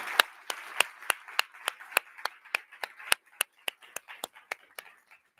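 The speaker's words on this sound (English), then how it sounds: "Let's have a round of applause for Susan." Applause for a speaker at a conference, thin and sparse: a handful of distinct, evenly spaced claps that come through clearly and taper off toward the end.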